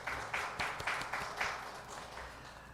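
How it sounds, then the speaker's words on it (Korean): A church congregation claps together to celebrate members' birthdays. The clapping is rhythmic and fairly even, with soft pulses about four per second that gradually ease off. "오늘 우리 한꺼번에 또 축하하고 축복한다고 함께 박수하겠습니다"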